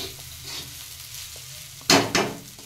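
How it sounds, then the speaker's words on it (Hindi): Fried rice cooks in a pan on high flame under a low, even sizzle, then two loud, close scraping stir strokes sweep through it in quick succession. "अब फ्लेम को थोड़ा सा हाई करके इसे बीच बीच में चलाते रहें ताकि नीचे चावल चिपके ना"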